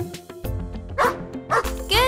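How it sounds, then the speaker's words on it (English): A dog barks in a children's memory game, a few short woofs heard close against music and a bright voice talking over them. "It's the dog!"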